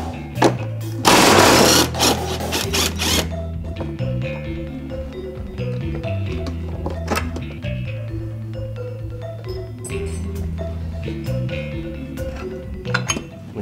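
A 15 mm top bolt comes out of a Jeep Liberty rear shock: a rapid ratcheting burst near the start, then metallic clinks, rattles and tool taps scattered over more than ten seconds, close by.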